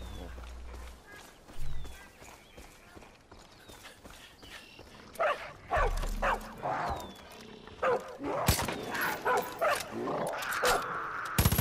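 Dog barking and whimpering in the Far Cry 5 video game, short bursts mixed with game action sounds, footsteps and explosions, moderately loud with intermittent activity throughout.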